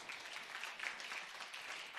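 A church congregation claps during a sermon, giving a steady, fairly faint wash of many hands that continues without a break.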